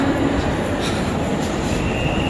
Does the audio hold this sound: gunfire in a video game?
no